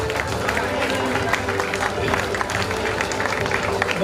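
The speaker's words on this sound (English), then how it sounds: "Applause, please." An audience at a graduation ceremony claps steadily, a dense mass of hand claps from a crowded hall, moderately loud and even throughout with some background murmur.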